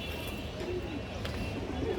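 Ring-eyed pigeons of an old butter breed coo softly in a loft, a low continuous murmur with occasional faint bird calls over steady background noise.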